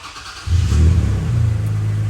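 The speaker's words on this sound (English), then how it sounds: "We're going to start the truck up" A Toyota Tacoma truck engine cranks and catches after a moment, settling into a steady, loud idle rumble close by with no talking.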